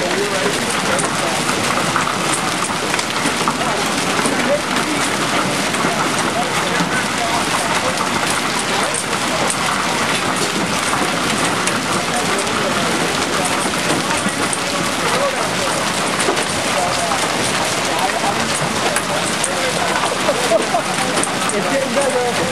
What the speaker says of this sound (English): I'm in the middle of a serious hailstorm right now.